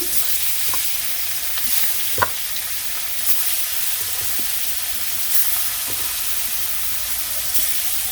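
Fish sizzles as it fries in hot oil with cumin seeds, a steady close hiss broken by a few faint pops and crackles.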